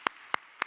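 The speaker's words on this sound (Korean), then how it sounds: "우리 하나님께 감사 영광의 박수 올려드리겠습니다" Three sharp, separate hand claps at a steady pace ring out during a young adults' Sunday church worship service, sounding quiet and somewhat distant with no voices over them.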